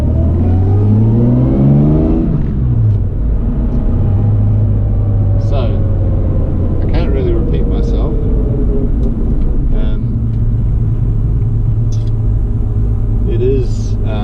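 A Jaguar E-Type driving on a New Zealand road, its engine rumbling loud and close with rising revs through gear changes, the pitch climbing and settling repeatedly, while a voice talks over part of it.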